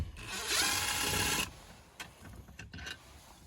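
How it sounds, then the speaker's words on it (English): A loud power drill whirs steadily for about a second and a half, removing a long screw from a Jeep Grand Cherokee WK2 cup holder trim, then stops, followed by a few faint scraping and clicking sounds. "I'll switch over to the drill just to make it go a little faster"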